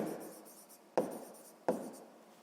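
Pen or chalk writing during a sixth-grade math lesson, faint scratching strokes under quiet room tone, broken by two sharp taps about a second apart.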